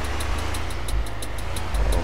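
Hino Dutro truck engine in Euro Truck Simulator 2 runs with a steady low rumble and rises slightly toward the end as the throttle opens, with a faint rhythmic ticking above it and no talk.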